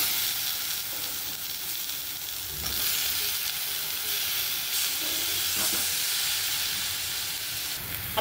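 Drumstick pods tossed into oil-separated fried masala in a pan for a village-style drumstick amti, giving a steady close sizzle and hiss with occasional stirring scrapes throughout.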